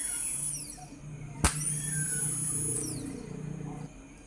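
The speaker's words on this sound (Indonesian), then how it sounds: "bisa terlihat itu dinamonya sudah hidup ya" Honda Mega Pro motorcycle starter motor bench-tested on a battery, spinning up with a high, thin electric whine that holds steady, broken by a sharp click midway, then winding down.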